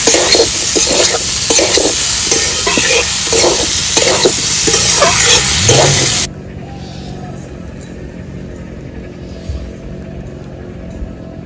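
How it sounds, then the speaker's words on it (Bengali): Boiled beans frying with potatoes and spices in a pan, a loud, dense sizzle under rhythmic stirring for about six seconds, then dropping abruptly to a faint low hiss with occasional light clinks. "এবার আমি দিয়ে দেবো সিদ্ধ করে রাখা বিনসটা। আর একটু সুন্দর করে কষিয়ে নেব।"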